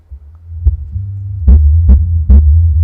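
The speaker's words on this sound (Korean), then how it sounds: "위에 스피커를 꺼놓고 서브우퍼 소리만 한번 들려드릴게요." An Alpine 12-inch car subwoofer, used in a room setup with the upper speakers switched off, playing music on its own: a loud, deep bass throb with a few punchy beats building over several seconds, heard close with no talking.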